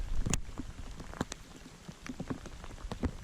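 Rain falls around a pond during fishing, scattered drops tapping and pattering close by in an irregular, soft rhythm.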